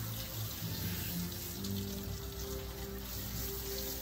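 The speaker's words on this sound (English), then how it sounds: "Let's rinse her face off" Steady close spray of water rinsing the face of a Maltese/Shih Tzu mix dog during a grooming bath, a continuous hiss with faint low hum beneath, no talking.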